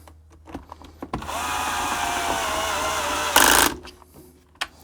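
A power screwdriver backing screws out of a hoverboard, a close, loud whirring run of about two seconds that rises briefly at the end, with short clicks and handling before and after.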